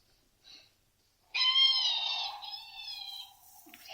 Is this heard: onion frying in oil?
no